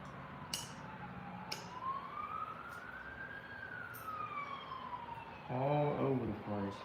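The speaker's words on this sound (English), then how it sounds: "Got us another ambulance." Ambulance siren wails slowly up and down at a distance, faint against background noise, with brief voices and clatter near the end.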